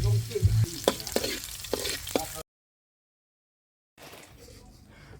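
Garlic frying in hot fat in a heated pan while cooking stir-fried eel: a broadband sizzle with stirring clatter and a brief voice, then a gap of silence before quieter sizzling resumes.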